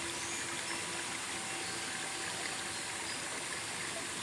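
A jungle stream flows with a constant soft rushing and gurgle, steady and unbroken, heard faintly at a distance with no voices.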